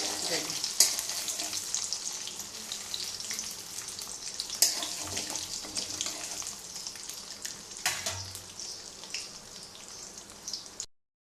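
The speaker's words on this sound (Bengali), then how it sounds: "এবারে কিন্তু আমি ডালটাকে খুব ভালোভাবে ভাজবো, একদম যেন লাল লাল ভাজা হয়।" Split mung dal fries in a pan with a steady, crackling sizzle. Brief stirring scrapes and pops rise above it now and then, and no voices are heard.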